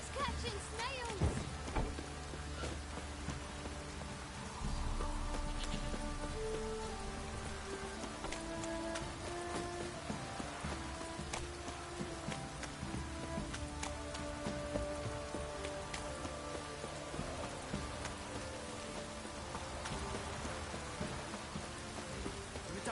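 Rain in The Witcher 3 on PS5: a steady patter of rain on surfaces with scattered drops, continuing under game voices and other incidental sounds.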